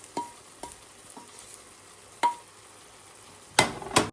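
Vegetables for a Thai seafood curry are stirred in a pan, several sharp scraping clinks spaced irregularly over quiet sizzle, no talking.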